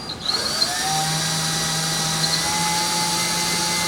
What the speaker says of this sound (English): making sure that the drill bit actually starts and goes in straight